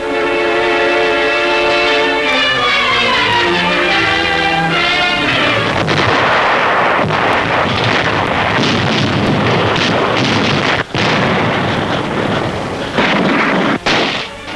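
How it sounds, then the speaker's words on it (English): A World War II artillery barrage on Okinawa in old newsreel sound, loud and continuous, with a long droning tone early on, then dense rumbling blasts and sharp cracks near the end, no voices. "the Yanks advanced slowly, facing one of the fiercest artillery barrages of the war"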